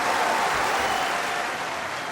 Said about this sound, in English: as the capacity crowd go completely mad.